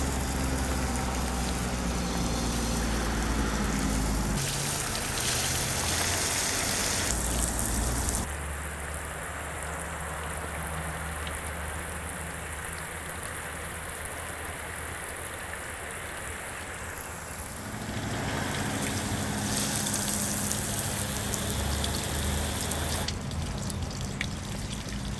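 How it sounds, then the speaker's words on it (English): A garden hose sprays water over a car trunk to simulate rain, a steady rushing patter against the metal that shifts in tone as the stream moves, continuous and fairly close with no voices. "I'm going to run the water on the outside here with the hose for a while."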